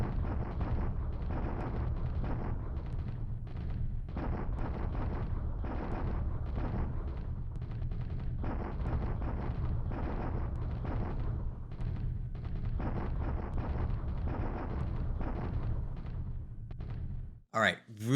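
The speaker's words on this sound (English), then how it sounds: "Okay, bombardment at Chungking." A steady, dense bombardment rumble in the War in the Pacific strategy game, with continuous low booming thuds and pulsing bursts going on for the whole stretch before a sudden break at the very end.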